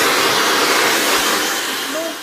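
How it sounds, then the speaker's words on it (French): Handheld hair dryer blowing on a fabric sofa armrest to dry a cleaned stain, a steady close broadband rushing whoosh that runs the whole time and eases slightly toward the end. "Je vais aller chercher un sèche-cheveux. Et je vais sécher tout ça pour voir ce que ça donne."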